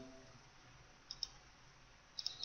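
Computer mouse clicks on a desktop, a couple of small, faint clicks in pairs over quiet background hiss.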